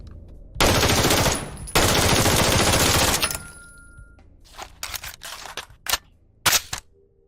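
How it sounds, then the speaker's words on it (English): An M4 rifle in the Operation Black Mesa video game fires two long, loud automatic bursts. Several sharp mechanical clicks and clacks follow, and no one speaks. "shows some of his work on the M4 firing and tactical reload animations"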